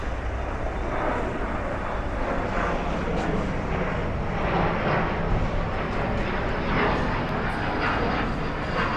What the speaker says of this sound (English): Now we are right outside LaGuardia Airport. As you can see there, we got some planes lifting off.